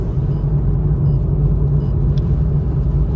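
A 2022 Toyota GR Supra cruising on a highway during a cross-country road trip, with a steady loud low road rumble and engine drone continuous throughout, no talking.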